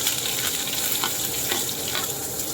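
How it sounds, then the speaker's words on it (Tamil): Chopped onions sautéing in a pan after mustard seeds have popped, a loud, steady crackling sizzle with a few faint stirring scrapes, heard close up and without speech. "வெங்காயம் லைட்டாக வதங்கிட்டு இருக்கு."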